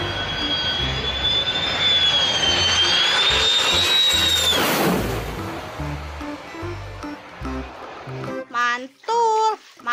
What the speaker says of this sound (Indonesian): Pesawat militer.